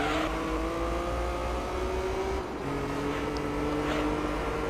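A Honda NSX race car in Gran Turismo 3 drones at high revs down a straight, a steady loud engine whine that dips briefly as it shifts gear, then carries on.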